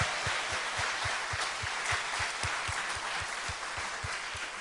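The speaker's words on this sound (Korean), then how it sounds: "우리 하나님께 영광의 박수 올려드립니다." Applause for God fills a Korean Christian radio church broadcast, a steady wash of clapping from a gathered audience with a faint regular beat running under it, sustained throughout with no talking.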